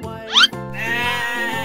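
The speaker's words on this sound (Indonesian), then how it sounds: "Wow, ada kambing." A toy goat gives a short, bright electronic bleat with a wavering pitch. A longer, steady, buzzy bleat-like tone follows right after, close and loud, with no talking.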